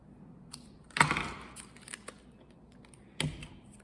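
Scissors snip through paper for an iris paper-folding craft, two distinct crisp cuts about two seconds apart, the first longer with a brief rustle, close and fairly quiet with small handling noises between.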